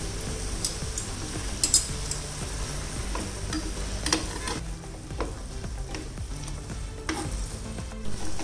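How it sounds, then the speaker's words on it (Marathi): Cooked green peas are mashed in a pan for crispy matar pattice, giving a soft, continuous sizzle under a gentle scraping and stirring, with a few light taps of the utensil against the metal. "आता हे थोडंसं आपल्याला मॅश करून घ्यायचंय."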